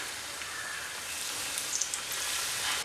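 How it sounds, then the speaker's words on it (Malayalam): Banana fritters (pazham pori) frying in hot oil, a continuous fine sizzle and crackle with a few brighter pops, steady and close, no voices. "ഇതേപോലെ ബാക്കിയുള്ളതും കൂടെ ഫ്രൈ ചെയ്തെടുക്കുക."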